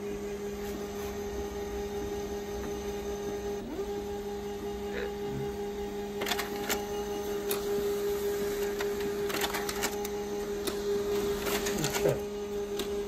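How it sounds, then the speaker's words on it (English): An HP LaserJet Pro M15w wireless laser printer runs a job with a steady mechanical hum, soft clicks and paper-feed rustles that grow slightly busier midway, heard close and alone with no talking. "printing to HP LaserJet M15w"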